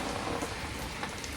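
Heavy typhoon rain pounding down in a dense, unbroken roar of drops on surfaces, loud and close throughout the short stretch with no voices.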